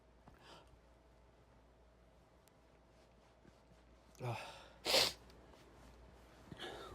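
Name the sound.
sneeze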